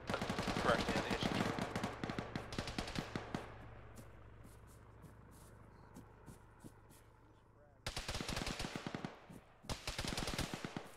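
A heavy machine gun fires in long rapid bursts in an Arma military game, loud and close, then stops for a few seconds before resuming with a fast, steady string of shots. Voices talk over the radio.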